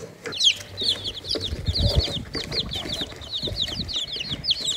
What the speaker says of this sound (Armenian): հմի գնացինք ճուտերին կեր տալու